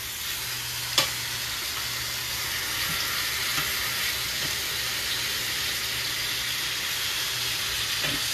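Pot roast meat sears in a hot pan with a steady, close broadband sizzle that holds for the whole stretch, broken by one sharp tap near the start and a few faint clicks.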